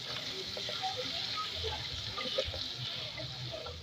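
Hot water poured into a pan with softened almonds while cooking mbinzo with safu makes a continuous close splashing gush over a faint bubbling sizzle, steady throughout with no voices.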